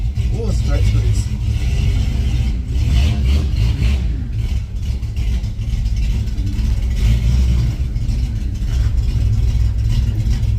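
A Ford F100 truck engine, freshly carburetor-tuned, runs loud and close, its low rumble swelling in repeated revs that fill the whole stretch, with some voice mixed in.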